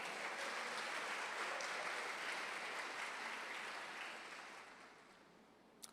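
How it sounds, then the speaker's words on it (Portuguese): An audience in a church applauds, a broad burst of clapping that starts full and thins out slowly as it fades toward the end. "Você pode aplaudir o Senhor pela vida dele?"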